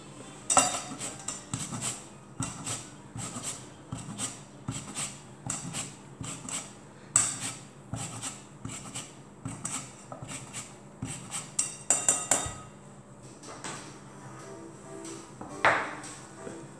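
A utensil stirring pastatelle filling in a bowl, producing repeated rhythmic scraping clinks against the bowl at close range with a few sharper pings, no voices.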